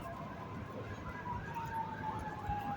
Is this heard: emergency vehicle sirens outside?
yes